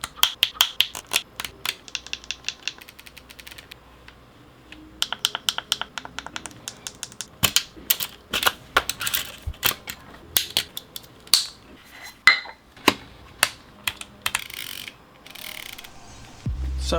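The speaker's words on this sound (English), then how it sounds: "let's get into how great these buttons actually sound." Leica Q3 compact digital camera buttons and dials being clicked up close, sharp isolated clicks in irregular bursts with short pauses, some rapid runs of ticks like a ratchet, no talking.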